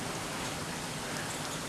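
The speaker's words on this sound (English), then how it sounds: "we've never had this much rain, I don't think, in 1 year that I'm aware of" Heavy rain falls in a dense, steady hiss across a yard where water is standing everywhere, an even wash of sound with no breaks and no voices.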